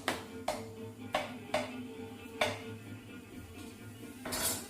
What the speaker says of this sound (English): I'm just going to roughly chop some mushrooms up